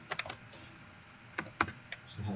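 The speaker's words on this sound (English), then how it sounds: "So I just type H1 here" Several quick keystrokes tap on a computer keyboard in short clusters, close and crisp, with short pauses between the bursts and no talk.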